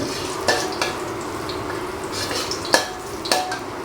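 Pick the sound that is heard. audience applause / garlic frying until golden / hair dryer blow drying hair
garlic frying until golden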